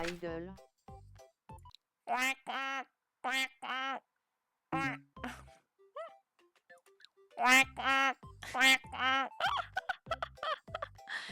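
A woman imitates a duck, giving repeated nasal quacks in short bursts and clusters with pauses between them, close and clear, with some breathy sounds in the gaps.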